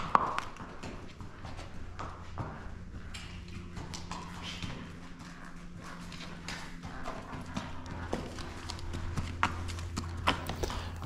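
Hooves of a horse bought at auction clip-clop steadily in an uneven walking rhythm as it is ridden, close and clear over a low background hum, with no talk.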